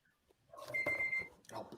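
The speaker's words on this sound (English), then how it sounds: "that's the buzzer" A quiz show buzzer sounds once as a steady electronic tone lasting about half a second, heard over a burst of studio chatter and audience noise.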